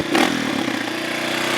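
Honda CRF230 dirt bike engine, a jetting case running both rich and lean, idling close and loud with a steady rough putter after a brief blip.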